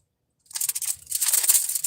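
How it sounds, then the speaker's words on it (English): Paper crinkles and rustles close by in a short, continuous burst of crisp crackling after a moment of silence. "Y'all heard the paper in the background"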